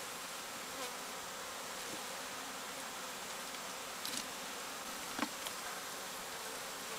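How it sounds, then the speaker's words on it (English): Honey bees buzz in a dense, continuous drone close by during a colony cutout in Monument Valley, steady and moderately loud, with a few individual bees whizzing past. "Move out of the way, bees, here, so we don't smash them."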